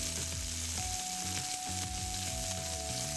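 Food searing undisturbed in a hot pan gives a loud, steady, continuous sizzle with crackling spits throughout.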